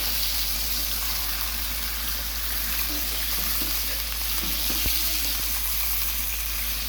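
Spices hit hot ghee in a karahi while making Sialkoti mutton karahi, producing a steady, loud, close hissing sizzle that runs continuously with faint stirring scrapes underneath.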